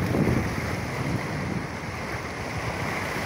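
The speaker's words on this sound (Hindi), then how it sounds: "कितना तेज़ हुआ हुआ है पानी।" Fast, swollen muddy river water rushing past in a steady broadband roar, with wind buffeting the microphone throughout and no voices.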